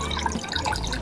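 Water running into a container at an outdoor picnic at Marina Barrage, a soft continuous trickle and splash, close and moderately quiet, with no talk over it.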